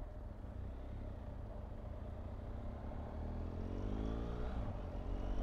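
Engine of a BMW GS1250 motorcycle while riding, a steady low rumble with a gradually rising pitch under acceleration, fairly faint and without talk over it.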